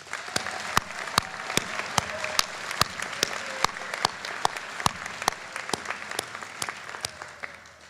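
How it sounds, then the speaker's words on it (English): Warm applause from a high school graduation ceremony audience, steady dense clapping with a few sharp individual claps standing out, sustained throughout. "Please help me give Richie a warm round of applause"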